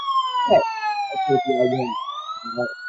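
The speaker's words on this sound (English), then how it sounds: "Oh, I got a police siren." A wailing police siren sound effect sweeps down and then climbs again, with a person talking briefly over it.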